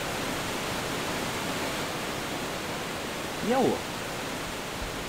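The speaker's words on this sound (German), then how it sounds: "Ich probiere mal mein Glück in einem Wasserfall." A waterfall in the video game Gothic II rushes in a steady, broadband roar that fills the whole stretch. A voice briefly says a single word near the end.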